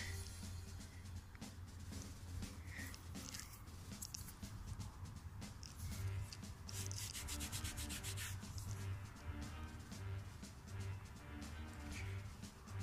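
Dirt being scraped off a freshly dug-up 5-centime coin, producing a steady, close, gritty rubbing and scratching that continues throughout with rapid repeated strokes and a faint background hum.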